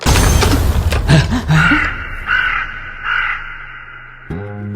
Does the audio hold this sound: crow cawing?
yes